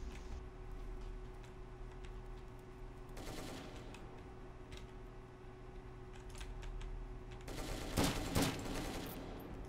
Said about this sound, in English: where are they shooting me from?